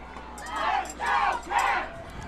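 Loud crowd at a high school football game between Blissfield and Onsted, cheering and roaring in three swelling surges over about two seconds, with no voice above it.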